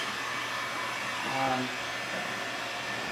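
A heat gun blows a steady, loud, airy roar while warming the adhesive of clear paint protection film on a car hood and fender, unbroken for the full stretch at close range.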